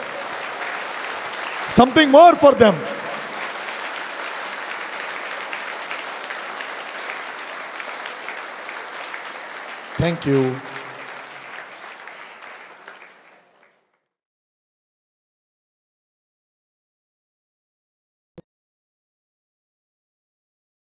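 Steady applause from a lecture audience during a talk by DSV Bharadwaj, swelling briefly twice and then cutting off into silence, with a speaker's voice heard over the clapping.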